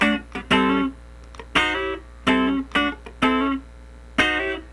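Funk rhythm guitar bar played with the first three fingers, sliding into a chord voicing: a string of short, choppy strummed chords with sharp attacks and brief gaps, clear and close, no voice.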